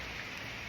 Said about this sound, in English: It's not raining that bad, but still, it's always got to rain.